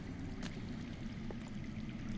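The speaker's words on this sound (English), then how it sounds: "I hear water. From underground." Underground water flows in the Game of Thrones Telltale game, a faint, steady, muffled rushing wash that holds level throughout with no other clear sounds.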